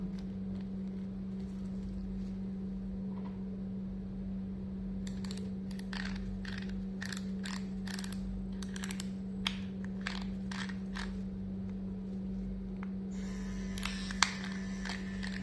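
An Ava GTR wireless tattoo pen machine runs at 10 volts, giving a steady close hum throughout, with sharp clicks and handling taps scattered over the middle and end.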